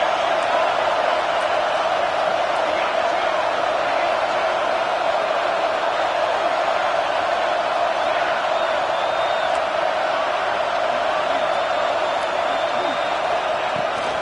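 A stadium football crowd roars steadily throughout a fourth-down play, a dense, continuous wall of cheering with no pauses, loud and sustained, and no clear voice standing out.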